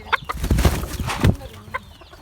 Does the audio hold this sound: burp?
no